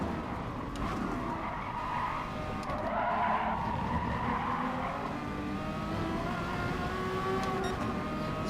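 A Porsche 962 race car brakes hard in a racing game, tires squealing and skidding over a steady engine drone for several seconds, loud and close with no talk.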